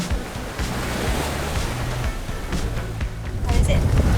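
Steady roar of waves and wind rushing past a Tayana 37 sailboat sailing upwind offshore, a constant loud wash of surf and wind buffeting that swells near the end.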